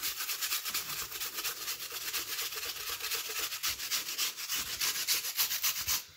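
Apples being grated by hand on a kitchen grater for a homemade apple coffee cake, a steady scraping rub that repeats in quick strokes for several seconds, close and fairly loud.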